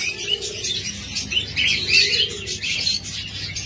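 Budgerigars chirp and warble busily in a bird shop, bright and close, with a few low cooing notes from doves woven underneath.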